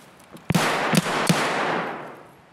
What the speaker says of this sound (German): Auf wen schießt der? Auf mich.